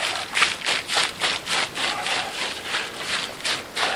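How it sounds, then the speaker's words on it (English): Cob mix of sand and dirt is raked and spread thin across a tarp outdoors, giving a brisk series of about a dozen rhythmic scraping rubs, each a short gritty sweep, close and fairly loud. "Spread it out thin, kinda,"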